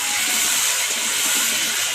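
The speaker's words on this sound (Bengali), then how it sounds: "মাছ ভাজা তেলের মধ্যে আমি আলুগুলোকে ভেজে নেব।" Potatoes fry in oil reused from frying fish, a loud, steady, close sizzling hiss that never lets up.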